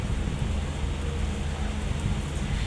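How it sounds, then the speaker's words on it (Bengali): Fresh rain pouring down in a breezy shower, a continuous broadband hiss with a low rumble, steady and fairly loud throughout the short stretch. "বৃষ্টি শুরু হয়ে গেছে"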